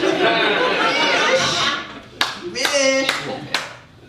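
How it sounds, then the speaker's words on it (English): Chatter and laughter from a comedy show audience fade out, followed by a few sharp isolated claps from one audience member and a brief voice. "Thank you for the clap in the back."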